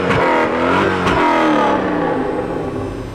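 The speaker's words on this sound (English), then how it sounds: "I told you it'd sound way better without a muffler." Loud, close car engine running with no muffler, burbling and revving in a raw, throaty exhaust note that slowly settles.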